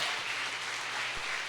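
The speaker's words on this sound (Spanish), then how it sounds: "Alguien puede darle un aplauso al Señor." A church congregation applauds for the Lord after a sermon, a steady wash of clapping that fills the whole short moment with no voice over it.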